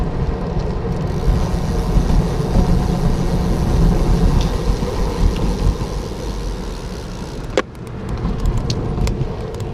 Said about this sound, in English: Alright, too much traffic.